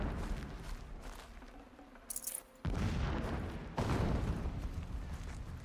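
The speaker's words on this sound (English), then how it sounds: "Explosions in the distance." Deep, rumbling booms and bursts of gunfire-like blasts from distant explosions in the video game Horizon Zero Dawn Remastered, with two sharp loud onsets partway through, set against a constant noisy background.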